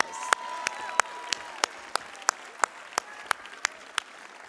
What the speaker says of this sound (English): Give yourselves a hand of applause